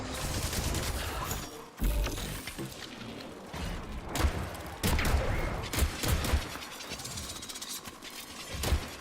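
Gunfire in the Atomic Heart video game, repeated sharp shots and bursts over a busy, noisy combat background, loud and close, with brief voice sounds mixed in.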